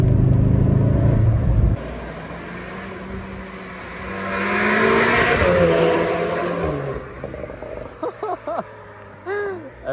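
A facelifted Volkswagen Golf 7R engine rumbles and rises in a long rev, then settles, with a few brief voice-like sounds near the end.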